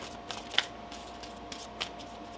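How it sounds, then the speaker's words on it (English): A deck of tarot cards is shuffled by hand, giving soft riffling flutters and a couple of sharper card snaps. The sounds are close and quiet, with no talking. "One more shuffle here."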